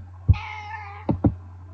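A pet cat named Whiskers meows close by: one long drawn-out meow followed by two short, sharp calls, with a steady low hum underneath.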